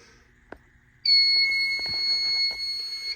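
A home fire alarm system sounds during a test, a loud, piercing continuous electronic tone that starts abruptly after a second of quiet with a few clicks and knocks, then holds steady with faint background noises.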